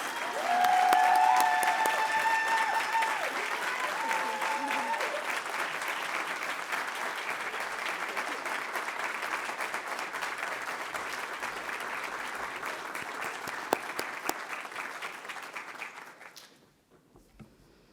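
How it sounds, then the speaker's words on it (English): Sustained audience applause fills a hooding ceremony for graduating higher education and student affairs students, steady and fairly loud for about sixteen seconds before fading out abruptly near the end. "if we could all join in giving Kathy a round of applause for her support of us"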